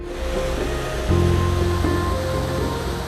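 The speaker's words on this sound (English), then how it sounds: "Start letting the water out." Water rushing out of a canal lock as it drains, a steady broad roar of churning flow that swells a little louder partway through and continues without pause.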